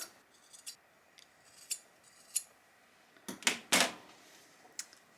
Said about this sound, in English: I'm going to go ahead and snip these corners just so there's not a lot of bulk.